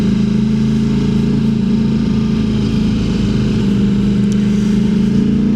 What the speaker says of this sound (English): we'll go straight into the snow on our motorbikes